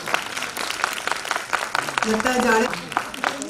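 Applause from the audience at a book launch ceremony, a steady patter of clapping from a modest crowd running throughout, with a voice speaking over it and a brief musical tone near the middle.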